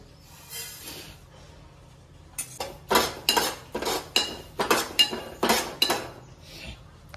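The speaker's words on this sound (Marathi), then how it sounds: "असे आपण मंद गॅसवरती भाजून घेऊया" Turmeric and chili spices dry-roasting in a pan on a low flame. After a quiet start, a series of close, rhythmic metallic scrapes and clinks sounds as the spices are stirred.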